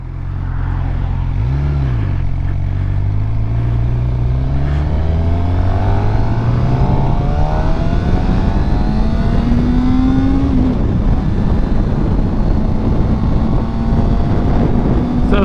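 A 600cc motorcycle is ridden at speed, its engine note rising steadily as it accelerates under a loud, constant roar of wind buffeting the microphone, with no talking.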